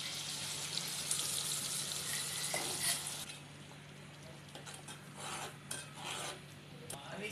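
Egg masala sizzles in a pan as the ground spice paste cooks with tomato, a steady bright hiss and crackle that eases after a few seconds into softer frying with light scraping.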